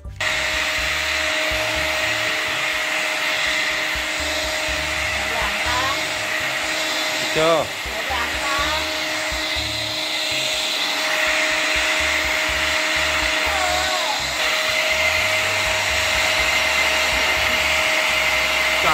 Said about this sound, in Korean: 청소기.